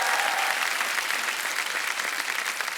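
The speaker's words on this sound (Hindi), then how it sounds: "देखो, ये तालियां इस बात का गवाह है।" Studio audience applause on a Hindi TV comedy show set, a dense, steady wash of many hands clapping that holds loud and even throughout, with no voices over it.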